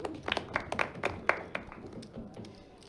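Audience at a poker tournament final table applauds in a short burst of scattered clapping that thins out and fades over a few seconds.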